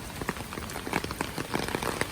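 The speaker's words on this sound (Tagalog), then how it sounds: "Grabe yung ulan ngayon, ano." Heavy rain pours on a rural garden with a hut, a steady dense patter with sharp drops striking nearby surfaces throughout.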